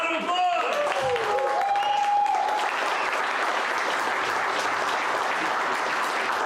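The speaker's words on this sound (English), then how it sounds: "Round of applause!" Audience applause at the close of a SecKC security meetup talk in a new venue, sustained crowd clapping building to a dense wash after a few early tonal sounds and voices at the start.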